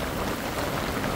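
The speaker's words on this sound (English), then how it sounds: "It rains like that for an hour and I could fill up one of those tanks." Heavy rain pouring onto a roof, a dense continuous hiss and patter of drops, loud and close with no pauses or voices.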